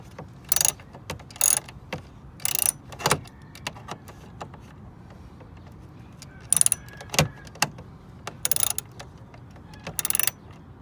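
A ratchet clicks in quick bursts while screws of a StoNsho front license plate holder are tightened on a car, about ten short, close, sharp ratcheting runs separated by brief pauses, with no speech.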